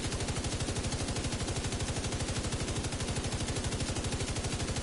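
Sustained rapid automatic gunfire from the video game The Division 2, a steady fast rhythm of shots running without pause, loud and close, no talking.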